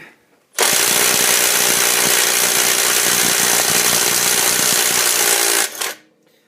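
Bosch GDX 18V-180 cordless impact driver hammering at a stuck bolt, a loud close continuous rattling burst of about five seconds that starts abruptly and winds down at the end.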